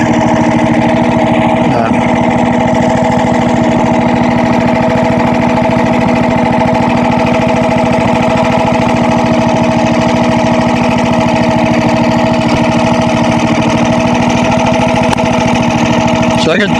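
A log splitter's small engine drones loud and steady from close by, an unbroken mechanical hum that runs without pause from start to finish.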